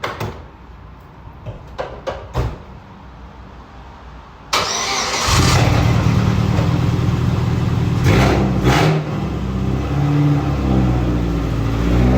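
A 1999 Chevy S10 pickup with a 2.2-litre engine starts with a loud catch after a few clicks and door sounds, then idles and revs steadily up close as it pulls into a garage, with no talk.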